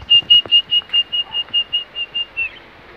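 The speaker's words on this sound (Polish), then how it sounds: "Gwizdek." Series of about a dozen short, sharp whistle blasts in quick even rhythm, loud and piercing, fading out at the end.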